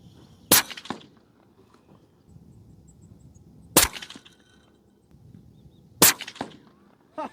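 Three rifle shots from a Socko rifle chambered in 6.5 PRC, spaced a few seconds apart, each a sharp loud crack with a brief tail, over quiet outdoor background.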